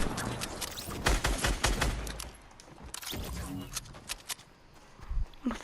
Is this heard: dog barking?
no